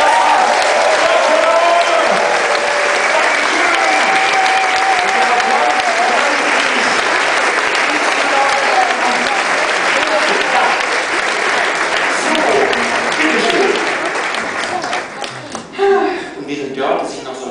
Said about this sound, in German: Und das zweite ist ein Riesenapplaus vom ganzen Publikum.